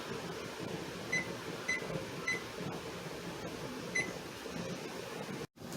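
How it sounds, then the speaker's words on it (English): A kitchen timer gives a few short, evenly spaced high beeps over a steady hum of background noise, with a brief dropout near the end. "We're going to come up here and set the timer"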